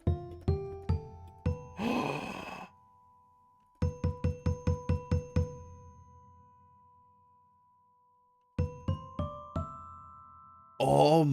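Bell-like tones from the Crow Hill Vaults audio plugin ring out in quick rising runs of struck notes with long sustained tails and bursts of shimmering noise, clean and close with no talking.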